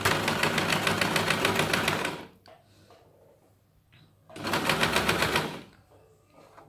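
A sewing machine stitching a buttonhole with its shortest stitch length, running in two fast, rattling bursts of a couple of seconds each, separated by a quiet pause.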